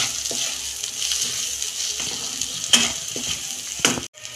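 Soybean chunks with chilli powder are stirred in a sizzling pan, giving a steady frying hiss with scraping stirs and occasional sharp clinks of the spatula against the pan.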